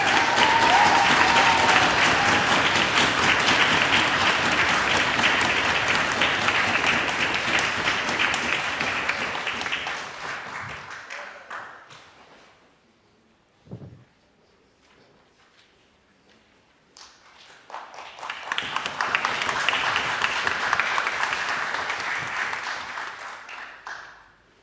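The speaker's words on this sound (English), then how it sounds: "Let's continue to applaud him as he makes his way to his seat." An audience at an annual Tobago Day debate applauds the announced results, two long bursts of dense clapping separated by a near-silent pause with a single thump.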